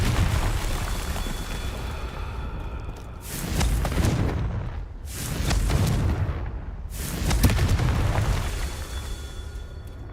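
Confringo blasting spells explode in the video game Hogwarts Legacy: three heavy booming blasts a couple of seconds apart over a constant low rumble, loud and close, with no talking.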